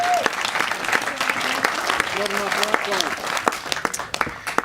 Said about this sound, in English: round of applause, folks.